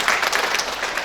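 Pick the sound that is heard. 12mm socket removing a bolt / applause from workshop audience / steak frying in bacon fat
applause from workshop audience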